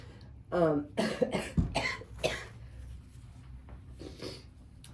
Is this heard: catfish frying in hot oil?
no